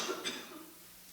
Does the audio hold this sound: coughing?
yes